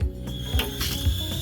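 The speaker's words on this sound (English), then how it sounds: "Hear the pump going." A water pump in a 2001 Peak Manufacturing Kodiak VXL2000 Class B Plus motorhome runs with a faint mechanical whir and repeated soft clicking or ratcheting, heard up close indoors.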